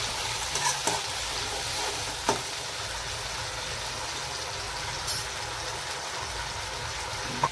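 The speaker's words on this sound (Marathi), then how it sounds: "आणि हा टोमॅटो सॉस, थोडे व्हिनेगर. छान परतून घ्यायचं." Veg Manchurian sauce with soy sauce, tomato sauce and vinegar sautés in a pan, giving a steady close sizzle with a few soft spoon scrapes and taps scattered throughout.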